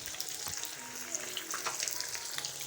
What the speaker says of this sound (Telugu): ఇవాళ ఫిష్ ఓన్లీ సండే ఫిష్ అనమాట ఇక్కడ ఫ్రై చేస్తున్నా